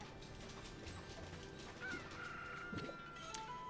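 Chickens cluck in the video game Okami HD, with faint, short fowl calls blended into the game's quiet background ambience and soft mechanical effects.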